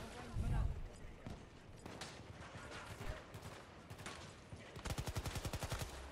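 Rapid gunfire in the video game Battlefield during a zombie-rounds mode, bursts of shots scattered throughout and a fast regular volley near the end, mixed with game noise and a talking voice.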